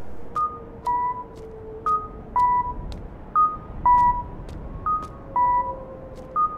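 Phone keypad dialing in the horror video game Parasocial, calling a building manager: a steady run of short electronic key tones in a clean, even rhythm, with a faint low tone underneath and no talk.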